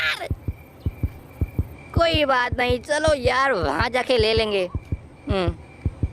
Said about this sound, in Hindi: मेरी धड़कन तेज हो रही है